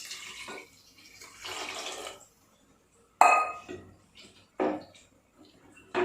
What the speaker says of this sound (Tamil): இப்போ தேவைக்கு பால் ஊற்றுறோம்.